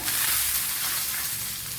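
Dried red chillies dropped into hot oil give a loud, dense, close crackling sizzle that holds steady throughout, with no talk.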